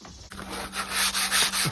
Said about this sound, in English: A quick sanding on the raw wood, get the edges real nice.